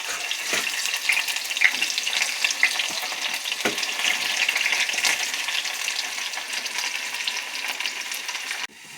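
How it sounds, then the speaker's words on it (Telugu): Onions frying in a pan for a chicken gongura curry, a steady close sizzle with crackling bursts and occasional stirring scrapes throughout, no voices. "ఉల్లిపాయ వేగింది కదండి."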